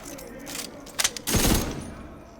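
Rapid weapon fire in The Division 2 right after a fast reload with the Perfect Braced talent, a loud burst of shots following a couple of short clicks.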